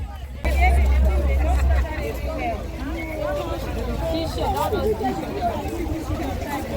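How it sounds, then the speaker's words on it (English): Crowd at a trade fair in Uyo, a dense babble of many overlapping voices close around with a low rumble underneath, continuous throughout. "See the crowd now."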